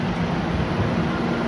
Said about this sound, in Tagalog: Nandito kami sa MRT.